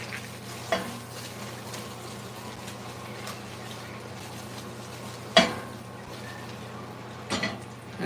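Boiled pasta tossed with butter in a cast iron pan, a soft steady sizzle with occasional sharp knocks of a utensil against the pan, close and without talk.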